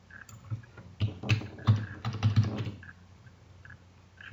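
Computer keyboard keys are pressed for a Ctrl Alt A shortcut in Sublime Text: a short cluster of close, crisp clicks and thumps, then quieter stray taps.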